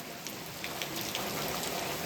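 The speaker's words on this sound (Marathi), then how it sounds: "आता पुन्हा एकदा पाऊस इलो." Steady rain falls over a coastal Konkan village with coconut trees, a dense, even hiss of drops hitting surfaces close by with no voices.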